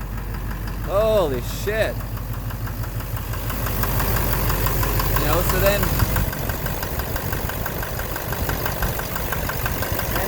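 Duramax LMM diesel engine idling with a steady rhythmic knock from the bottom end, a constant low clatter close to the microphone while someone talks and exclaims over it.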